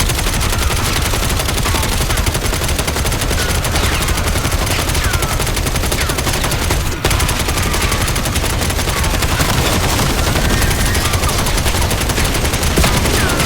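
Intense automatic gunfire rattles continuously and loudly in a Black Ops 7 convoy battle. Overlapping bursts form a dense fusillade that barely lets up for the whole stretch.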